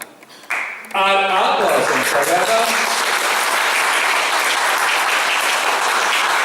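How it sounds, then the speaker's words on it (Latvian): A concert audience at a guitar music festival breaks into loud, dense applause after a brief tonal chime, the clapping sustained and close throughout. "Un tad, nu, ar aplausiem sagaidām."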